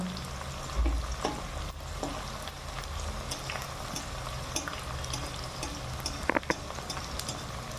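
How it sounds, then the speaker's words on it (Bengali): Onion, bay leaf, whole cumin and garam masala frying in oil give a steady, dense sizzle throughout, with occasional stirring clicks and a couple of sharper scrapes near the end, close and without talk. "পেঁয়াজ তেজপাতা গোটা জিরে গরম মশলা সব ভাজা চলছে"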